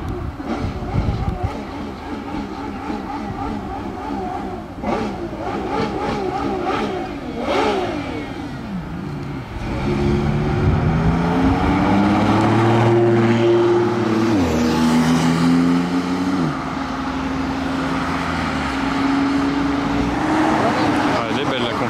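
An Audi R8 GT accelerates hard near a crowd, a loud engine roaring up through rising gear pulls with a gearshift dip, passing close amid voices and other cars revving at a street event.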